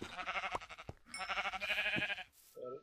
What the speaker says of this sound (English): I'm finding a lot of sheep there.